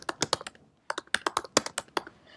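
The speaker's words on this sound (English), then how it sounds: "So if you were to type in a string of some kind" Close, quick keystrokes on a computer keyboard as a string is typed into a Scratch program, with a burst of clicks, a short pause, then another rapid run of taps.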